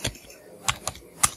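Several separate keystrokes on a computer keyboard, four crisp clicks spaced unevenly over a moment, close and fairly quiet against faint background hiss.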